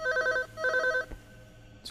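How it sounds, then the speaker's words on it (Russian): Telephone in the indie first-person horror game Unspoken rings twice in quick electronic bursts, clear and close, followed by a soft thud and quiet room tone. "Телефон."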